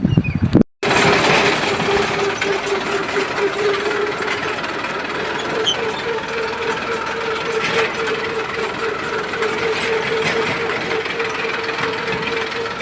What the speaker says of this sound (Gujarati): જેસીબી હાલે છે, બધું આકે છે.